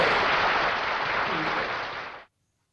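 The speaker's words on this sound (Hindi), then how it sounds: "एक बार जोरदार ताली हो जाए अलकरहा काका के लिए" Loud, dense applause from a game show studio audience for a contestant, a steady burst of clapping that holds for about two seconds and then cuts off abruptly.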